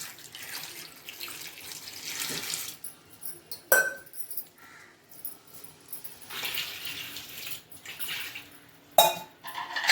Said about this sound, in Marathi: म्हणून ही स्वच्छ धुवून घ्यायची शिमला मिरची.